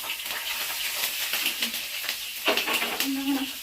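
Green chillies added to a pan of garlic and ginger for chicken curry sizzle and hiss softly and close by, with faint stirring scrapes and a brief louder crackle near the end.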